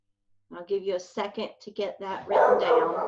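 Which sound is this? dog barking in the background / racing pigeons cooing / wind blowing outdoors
dog barking in the background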